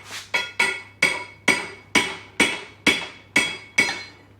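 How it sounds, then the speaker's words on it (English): Nine sharp metallic hammer taps ring out at an even, unhurried rhythm, close and clear, as bearings are knocked out of a worm drive housing on a 1954 Barndoor single cab rebuild, with no talking. "We're just going to whack it in the bucket straight down, and the bearings are going to fall out into the bucket"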